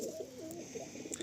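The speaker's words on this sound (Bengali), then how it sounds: "মোম ঠোঁটের পায়রা" A female wax-beaked pigeon gives a soft, close, low cooing phrase with a brief rising warble, set against faint background hiss.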